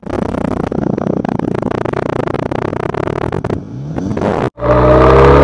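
A loud Benelli 502C 2019 motorcycle engine roars and revs hard, rising in pitch, then cuts out briefly before a deep idle rumble returns close by.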